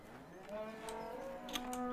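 Cattle in the video game Farming Simulator 17 let out a faint, drawn-out moo that rises in pitch, quiet and distant-sounding against a soft background.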